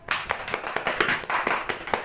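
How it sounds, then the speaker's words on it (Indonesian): A small group in a classroom claps for a student, giving close, rhythmic hand claps for about two seconds. "Tepuk tangan lagi dong untuk Wahyu."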